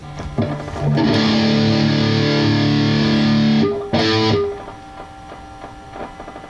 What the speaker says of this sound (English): Let's turn on some distortion